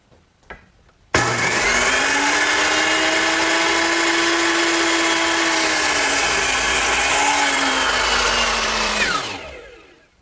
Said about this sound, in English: Now I'll cut it to the correct length